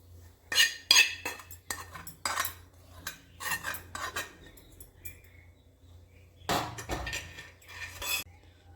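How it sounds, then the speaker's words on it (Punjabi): Spoon clinking and scraping in a bowl while spices are mixed for an amla pickle, in several separate bursts of metallic clatter with quiet gaps between. "ਤੇ ਇਹਨੂੰ ਆਪਾਂ ਚੰਗੀ ਤਰ੍ਹਾਂ ਨਾਲ ਮਿਕਸ ਕਰ ਲੈਣਾ ਹੈ"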